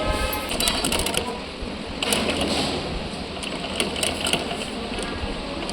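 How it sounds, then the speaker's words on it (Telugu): A sewing machine stitches a Punjabi dress collar right beside the buckram interfacing, running in steady mechanical bursts with brief pauses between them, close and fairly loud with no talking. "బక్కరం పక్కనే స్టిచ్ పడేటట్లు కుట్టుకోవాలి"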